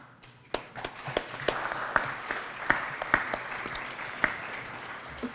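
An audience applauds after a regenerative agriculture panel discussion, a dense burst of clapping from many hands that holds steady for several seconds.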